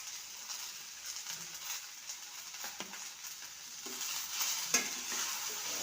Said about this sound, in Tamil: இப்போது இந்த ஆனியனுடைய ராஸ்மல் போகிற வரைக்கும் நம்ம இதை நல்லா கிண்டிக்கணும்.